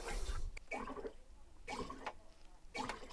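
A SodaStream machine carbonates coffee in three separate bursts, each a sharp hissing, bubbling gush of gas with short quiet gaps between them, heard close up.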